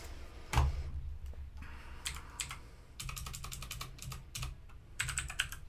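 Python code typed on a computer keyboard while programming a Raspberry Pi robot buggy: a sharp knock, then scattered clusters of quick key clicks with pauses, close by and without speech.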